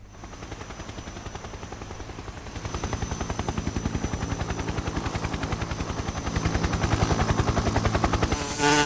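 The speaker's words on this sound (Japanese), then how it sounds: "すげえでかいヘリだ。" A large transport helicopter's rotor thumps in a fast, steady rhythm, loud and close, growing slightly stronger partway through and continuing without any talk.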